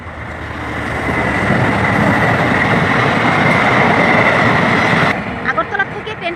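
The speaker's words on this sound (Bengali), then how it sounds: "আর এদিকে আগরতলা থেকে ট্রেনও চলে আসছে।" A passenger train from Agartala approaches Sabroom, its loud, close rumble and rolling wheel noise building and holding steady for several seconds before cutting off, with a voice briefly heard at the end.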